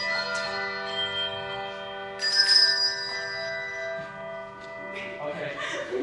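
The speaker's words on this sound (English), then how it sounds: "when you whack it, the thing goes against the bell and it vibrates." Handbells are played with a traditional ring at a spring concert, several clear pitched tones struck and left to sustain and overlap, with a fresh cluster of bright strikes midway and softer ringing toward the end.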